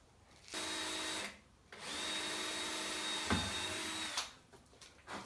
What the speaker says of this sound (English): So, we'll drill the other side out